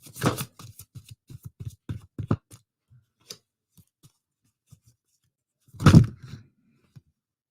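Tarot cards being shuffled by hand, a run of soft riffling flicks and taps up close, then a pause and one louder burst of shuffling near the end in an otherwise quiet room.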